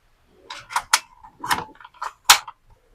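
A few sharp plastic clicks and clacks close up as a PVC toy gun is cocked, in an irregular sequence of short snaps.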